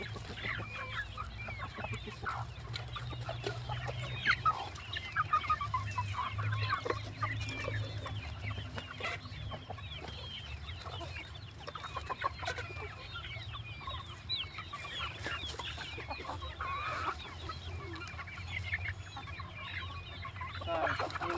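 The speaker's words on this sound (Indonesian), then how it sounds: "ini ayam petelur ya, ayam kampung petelur." Free-range kampung laying hens around four months old cluck and chatter continuously in a coop, many birds overlapping at steady loudness with occasional sharper calls over a low hum.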